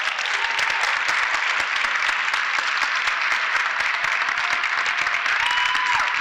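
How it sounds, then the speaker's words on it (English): Loud, sustained applause from a community meeting crowd honoring a woman being recognized, many hands clapping densely and evenly throughout with faint voices mixed in. "Please make a round of applause for her."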